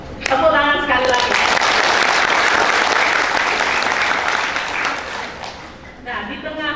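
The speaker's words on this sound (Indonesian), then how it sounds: "Tepuk tangan sekali lagi." Steady applause from a large audience at a university graduation ceremony, loud and sustained for several seconds, with brief voices at the start and end.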